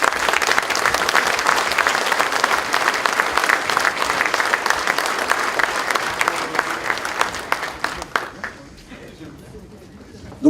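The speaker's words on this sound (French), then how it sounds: "je crois qu'on peut encore les applaudir" Audience at a municipal New Year's speech gives sustained applause, a dense clatter of many hands that carries on steadily for several seconds before fading out near the end.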